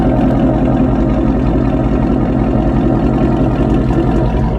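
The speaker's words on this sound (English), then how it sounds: "You guys can hear that idle." A 2019 Ford Mustang GT V8 idles close by, a steady, dense low rumble with even loudness throughout and no talk over it.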